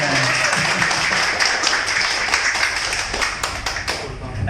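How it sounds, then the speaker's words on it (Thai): Loud, dense applause fills the whole stretch at a farewell party for immigration police officers, honoring a departing female inspector, with scattered sharp claps and faint voices mixed in. "ปรบมือดังๆให้สารวัตรไก่หน่อย"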